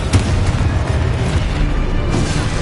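A Confringo explosive spell goes off in a Harry Potter video game: a loud, booming burst with a dense, rumbling roar that holds steady for a couple of seconds.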